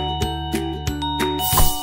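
A Linbell wireless doorbell plays one of its chime tones, a run of sustained melodic ringing notes with clear repeated strikes, loud and close, with no voices over it.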